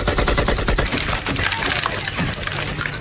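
Rapid automatic gunfire from the North Hollywood shootout, a dense, loud, continuous burst of overlapping shots that rattles on without a break for the whole stretch.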